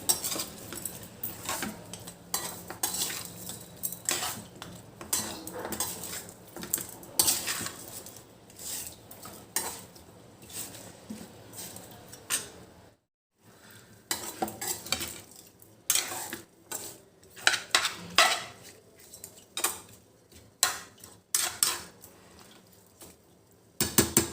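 A spoon stirs raw chicken pieces with turmeric and salt for a raw tamarind chicken pickle, giving repeated close scraping, clinking and wet mixing sounds in uneven bursts, with one brief silent pause.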